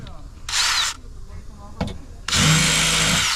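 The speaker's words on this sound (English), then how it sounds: "Get the drill." A power drill boring out rivets on a Porsche Cayenne window regulator, two loud high whirring bursts separated by a sharp knock, the second burst longer.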